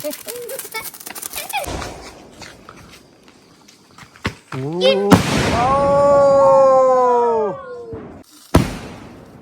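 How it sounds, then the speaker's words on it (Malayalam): Firecrackers bursting at a home Vishu celebration, sharp scattered pops and bangs followed by a long whistling, screeching firework that rings for a few seconds, then a final loud burst, with people speaking between the blasts. "നമ്മള് കുഴപ്പമൊന്നുമില്ലാണ്ട് വെടി പൊട്ടിക്കുന്നുണ്ട്"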